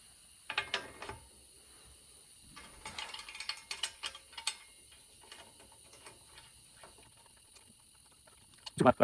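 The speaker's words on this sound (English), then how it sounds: "favorite tool, this ratcheting 15" Ratcheting 15 mm wrench tightening the cranks on a 1992 GT Avalanche mountain bike, faint close clicking bursts of the pawl in short runs, separated by quiet gaps, ending in louder knocks.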